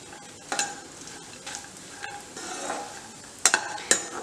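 Chopped makhana (fox nuts) frying toward golden brown under a quiet sizzle, broken by irregular scrapes and clinks of a spoon against the pan, louder near the end.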